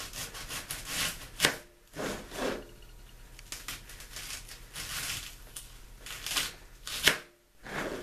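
A knife slices through an onion on a board for onion rings, with repeated rasping cuts and a few sharp taps of the blade striking the board, close up, with no speech.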